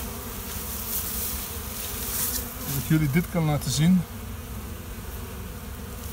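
Honeybees buzz continuously around a hive on a mild autumn day, returning with pollen, a dense droning hum close by, with someone speaking briefly over it in the middle.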